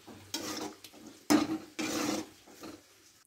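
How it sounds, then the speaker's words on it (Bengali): Potato curry seasoned with cumin and chili powder gets stirred in a pan in several distinct scraping strokes with pauses between, over a faint sizzle and occasional spoon clinks. "বন্ধুরা দেখুন আমি জিরে মরিচটা দিয়ে একটু নাড়াচাড়া করে নিলাম"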